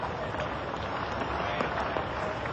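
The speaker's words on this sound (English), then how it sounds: "Generous round of applause from this very knowledgeable Adelaide crowd" A Test cricket crowd at Adelaide gives a steady, dense round of applause, a broad wash of distant clapping that holds at an even level with occasional louder individual claps.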